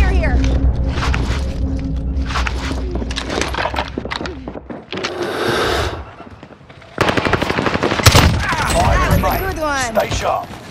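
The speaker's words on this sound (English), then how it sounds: "heavy fire here!" Gunfire in Call of Duty Warzone Rebirth, with dense bursts of automatic weapon fire and single shots through the clip, close and loud, mixed with other game effects and voice chatter.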